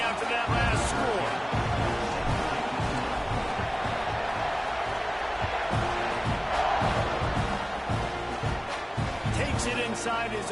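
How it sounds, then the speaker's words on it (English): A stadium crowd buzzing in a college football video game after a score, a steady loud roar filling the whole stretch beneath continuous play-by-play commentary. "this crowd is buzzing after that last score."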